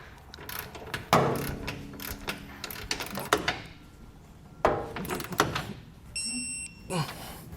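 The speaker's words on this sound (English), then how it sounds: "we're going to go back with a torque wrench and set it to the specifications in the instruction manual" A torque wrench tightens trailer hitch bolts under a 2015 Chevrolet, giving close, irregular bursts of ratcheting clicks and sharp metallic snaps separated by short pauses.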